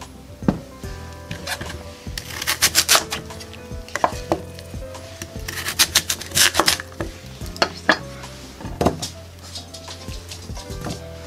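A knife cuts through radish on a board with a series of crisp, irregular chopping thuds, close and loud, several in quick clusters, with no talk.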